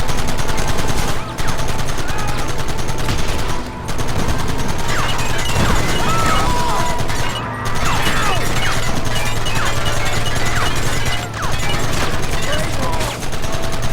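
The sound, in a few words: gunfire in the video game Red Dead Redemption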